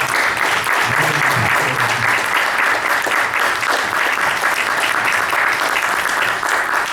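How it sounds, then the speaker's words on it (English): Loud, sustained audience applause for a panel at a Guam conference, dense and steady from start to finish with no voices breaking through. "Can we get a round of applause for our panel?"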